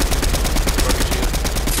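Gunfire in a video game shootout, a dense, loud, continuous burst of rapid shots that runs without pause through the whole moment, close and harsh with no voices over it.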